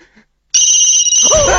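A telephone rings loudly and close, a bright sustained electronic ring that starts abruptly after near silence and carries on to the end.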